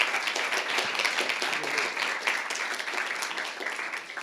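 An audience at the 2022 GOTO Summit applauds the competition finalists: dense, even clapping from a sizable crowd, steady for about four seconds with no break.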